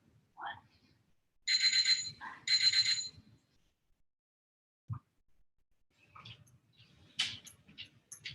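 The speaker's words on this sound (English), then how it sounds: "Can you guys hear the timer?" Electronic interval timer used during climbing hang training gives two loud, sustained beeps close together, followed by a quieter blip and then a cluster of short, softer chirps and clicks near the end.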